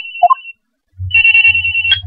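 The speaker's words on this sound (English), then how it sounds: "At around 10:30, I received a call on my cell phone." An electronic cell phone ringtone from the Phoenix Wright: Trials and Tribulations game: a short two-note chirp, a pause, then a sustained bright warbling ring over a low buzzing tone, loud and close.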